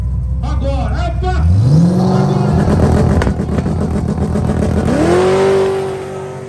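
A Kawasaki Ninja H2 motorcycle launches hard down a drag strip, its engine climbing steeply in pitch as it revs, dipping, then surging upward again, loud and close, with voices in the background.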